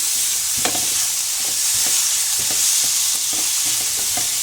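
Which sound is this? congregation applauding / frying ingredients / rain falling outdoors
frying ingredients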